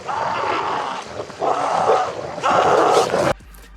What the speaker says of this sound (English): There's a character who gets attacked by dogs.